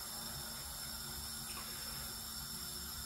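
Chilli-battered fish bites fry in hot oil, giving a steady, even sizzle and hiss with no pauses.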